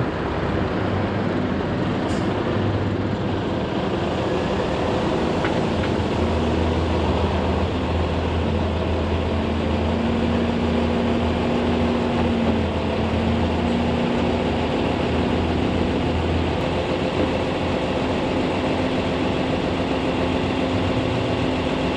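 A 1980s Volvo F16 diesel truck engine idles steadily, a loud continuous low rumble with a constant droning hum throughout, no talking over it.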